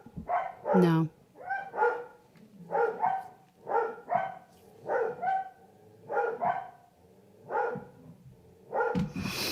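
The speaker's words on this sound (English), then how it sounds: "One moment, there's a dog barking." A dog barks repeatedly in regular bursts, fairly close, with a louder burst at the end.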